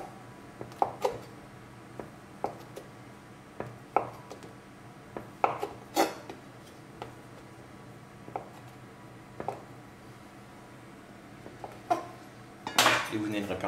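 Livarot cheese, rind removed, being cut into small pieces in a kitchen: a run of soft, irregular knife taps and clinks against a board or dish, fairly close, with quiet background talk.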